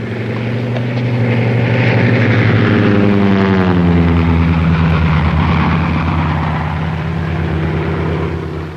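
Propeller airplane droning loudly overhead, its steady engine roar shifting downward in pitch as it passes, close and continuous.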